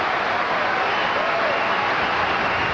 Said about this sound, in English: Well, that earns Hingis some applause and a break chance.